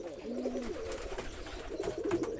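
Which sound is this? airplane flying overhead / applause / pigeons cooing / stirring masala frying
pigeons cooing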